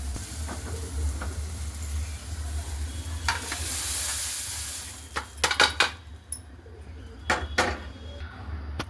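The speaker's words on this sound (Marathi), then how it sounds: "आता मी हिरव्या मिरच्या याच्यावर तेल टाकून छान भाजून घेते" Green chillies roast in oil in a pan, giving a soft, steady sizzle. Several sharp clinks and scrapes of stirring break in toward the end.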